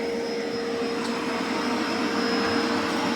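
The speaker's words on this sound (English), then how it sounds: "It's in large particle boost right now, vacuum only." A Dreame X60 Max Ultra robot vacuum runs in large particle boost in vacuum-only mode, giving a steady, close, high-pitched whirring drone with a constant whine.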